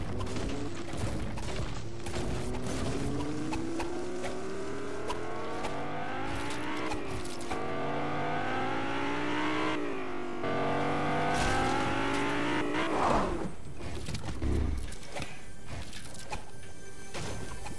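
A car driving in the video game Fortnite, its engine revving up and down in rising and falling sweeps, with a bump or crash near the end, steady and close throughout.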